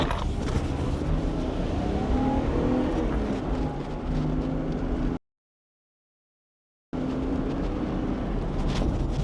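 Engine of a 2-litre BMW E30 sounds steadily while the car drives, a continuous close-up drone with rising and falling tones, then a sudden break of silence before the engine noise picks back up.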